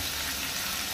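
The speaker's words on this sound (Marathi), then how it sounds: "टोमॅटो मातशे सॉफ्ट जायसर आमकां हे फ्राय करून घेवपाक जाय।" Tomatoes and onions frying in oil in a pan for a soya chunks masala, a steady dense sizzle that holds close and even throughout.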